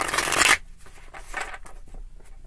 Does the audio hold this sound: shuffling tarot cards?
yes